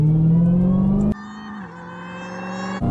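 Supercharged Dodge Demon V8 muscle car revving hard, a loud rising engine note climbing steadily before dropping as the revs fall and settle into a steady, slightly lower drone, with a brief blip near the end.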